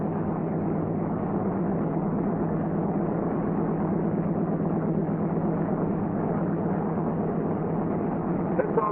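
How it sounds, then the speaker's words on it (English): A C-47 Skytrain's radial engine running while its propeller control is moved from low to high pitch: a steady, dense, droning roar that holds constant throughout, heard from inside the aircraft. "Now move the left prop control from low to high pitch."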